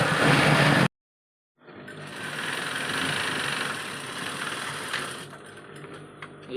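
A sewing machine stitches the side seams of a full shirt with a close, steady whirring drone. It cuts out briefly near the start, then resumes and runs evenly to the end.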